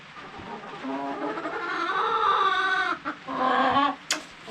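A Blue Andalusian rooster calls loudly nearby in two drawn-out, harmonic phrases separated by a brief pause, with no voices over it.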